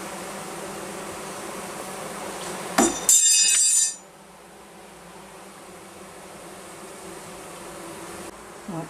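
A queenless honeybee hive hums with a steady, even drone. Midway a brief glassy clink and rattle cuts in, then the buzzing carries on quieter and more muffled.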